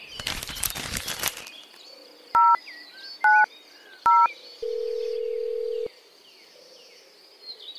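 A short burst of rustling noise, then three quick telephone keypad beeps followed by a longer steady tone, over faint birdsong in the background.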